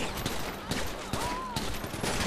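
Rapid bursts of gunfire from several shooters in GTA 5 crackle through the scene as a near, continuous fusillade of sharp reports, with a faint whine running underneath.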